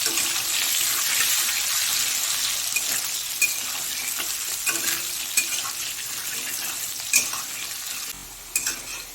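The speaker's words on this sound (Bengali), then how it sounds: "দিয়ে এবার ভালো করে একটু ভেজে নেবো আলুগুলোকে।" Steady hiss and crackle of potatoes frying in hot oil, with occasional stirring clinks and scrapes, fairly close and continuous throughout.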